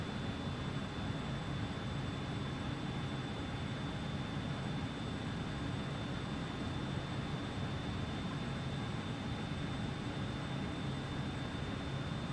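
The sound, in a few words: jet engines spooling up, video game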